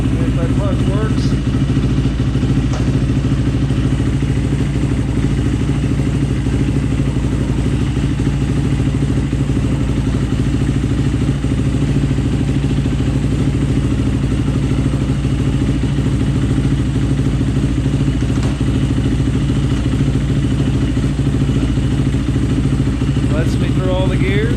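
Motorcycle engine running steadily and close, a loud constant drone with faint clunks as the rider works through the gears, after a clutch line was melted while out riding through a creek.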